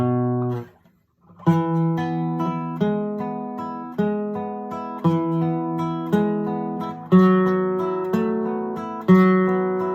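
A guitar fingerpicking exercise with the index finger added on the second string: evenly counted plucked notes over sustained bass, close and steady, starting after a brief silence with no talking.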